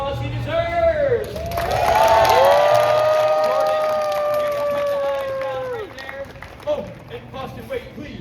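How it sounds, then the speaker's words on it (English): A street crowd in Boston applauds a juggler after his knife-juggling act, the clapping and cheering swelling over a couple of seconds, holding steady, then fading into scattered claps while a performer's voice carries over it. "Can give Jordan a round of applause he deserves"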